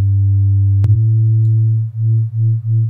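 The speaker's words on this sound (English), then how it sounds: "Then we've got sine." A pure sine wave oscillator on the Surge XT synthesizer plays a steady low tone, with a brief click partway through and then a few repeated sustained notes separated by short gaps, clean and alone.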